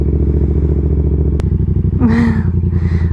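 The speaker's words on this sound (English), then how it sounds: "My initial takeoff, I'm always nervous if I haven't ridden this bike in a while." A Yamaha XSR700 motorcycle idles steadily up close with a lumpy engine rumble, then revs and pulls away after a sharp click, the engine note rising as it takes off.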